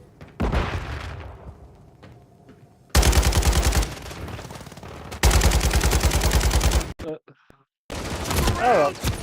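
Video game shootout with sustained loud bursts of automatic gunfire in long stretches, separated by short gaps and punctuated by booming grenade blasts, with game voice callouts briefly heard over the action.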